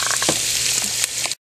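Ground beef sizzles and crackles steadily in a hot pan with a few stirring scrapes, close and loud, with no talking, for a Filipino pancit malabon.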